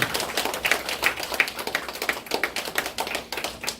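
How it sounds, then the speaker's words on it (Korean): Applause at a certificate ceremony for a temple food course at a Buddhist temple museum school, a steady run of crisp, moderately close hand claps with no voices. "박수 부탁드리겠습니다"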